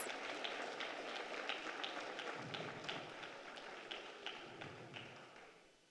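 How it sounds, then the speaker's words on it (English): At a school district board meeting, an audience applauds a principal of the year with faint, distant, rapid clapping that runs steadily and then fades out. "Let's give Mr. Sherman a huge round of applause."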